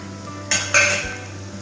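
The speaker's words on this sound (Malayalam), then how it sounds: "ഇത് മൂന്നും കൂടി ചേർത്ത് ആദ്യം ഒന്ന് ഇളക്കാം" Turmeric, coriander and chilli powders are stirred in a pan for a Kerala-style chicken roast: two short, close metallic scrapes against the pan over a low background hum, with no talk.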